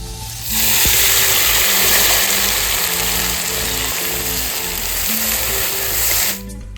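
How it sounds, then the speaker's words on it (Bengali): Loud, dense sizzling of chopped onions hitting hot oil, a continuous hiss that starts abruptly and holds steady until it cuts off near the end. "কুচিয়ে রাখা পেঁয়াজগুলো দিয়ে নিচ্ছি।"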